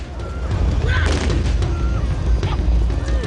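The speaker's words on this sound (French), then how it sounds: "la charge est ponctuée par les tirs de baroud" Baroud musket shots go off during a charge of horsemen in Mascara, Algeria: several loud booming blasts spaced apart over a dense, rumbling background.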